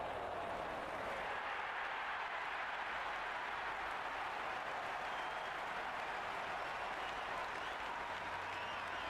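Steady, dense crowd applause and cheering from a stadium audience at a New Zealand versus Sri Lanka World Cup Super 8 match in the cricket video game Cricket 26, a continuous roar holding at even loudness throughout.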